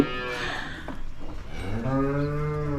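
Holstein Friesian dairy cows on a farm in Nilphamari low nearby, with one drawn-out moo and then a louder, fuller moo near the end over faint farmyard background.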